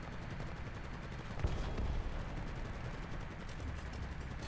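Machine guns rattle in War Thunder tank combat with a BMP-2 and T-55, a dense, continuous roar of gunfire with a sharper burst partway through.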